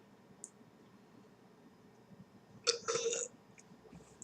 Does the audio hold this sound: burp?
yes